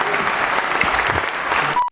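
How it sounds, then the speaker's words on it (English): Short, energetic burst of audience clapping at an open mic comedy night, dense and close, ending abruptly after about two seconds. "Big round of applause for Vic!"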